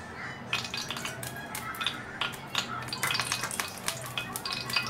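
Refined oil heating in a pan on a medium flame, a dense, crackling sizzle with quick spits and pops, steady and close with no voices.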